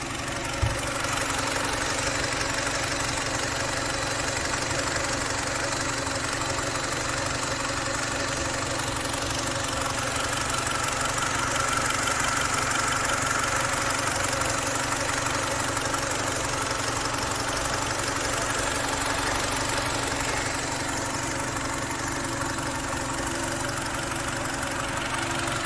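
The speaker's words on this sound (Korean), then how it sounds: "엔진룸의 소리를 활용합니다." A car engine, listened to in the engine room during a check for multiple fault codes, idles with a steady, constant drone and faint rhythmic ticking, close and unbroken throughout with no speech.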